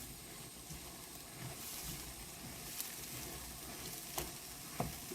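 Chili peppers and onion fry in perilla oil with a faint, steady sizzle and a few soft clicks of stirring in the pan.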